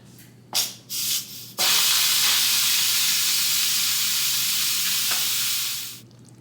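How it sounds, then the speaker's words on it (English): A loud, steady hiss of steam rushes out of an Instant Pot pressure cooker for several seconds after a few short bursts, then tapers off and stops. "flick it, and let it completely release the steam"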